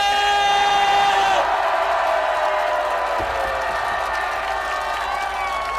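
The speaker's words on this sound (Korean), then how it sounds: "우리 다 같이 매일 다 함께 승리의 함성을 함께 외쳐봅시다." A large crowd at a Marine Corps veterans' election rally for the Democratic Party raises a sustained victory cheer, a loud continuous roar of voices that holds steady throughout.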